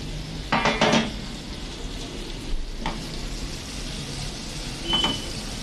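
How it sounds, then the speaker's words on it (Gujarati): Green chillies frying in oil for Gujarati marcha no sambharo, a steady soft sizzle underneath a few clinks as a plate is set over the pan and lifted again, with a metallic clatter near the start and a lighter tap later. "ઉપરથી થાળી ઢાંકી દેશું. હવે મરચાંને જોઈ લેશું."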